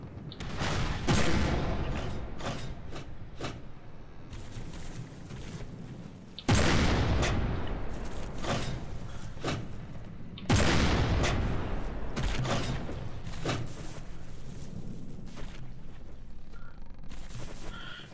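Naval guns fire repeatedly in From the Depths as a ship engages a moving target, loud booming bursts in irregular volleys with rolling rumble between shots, and no talking.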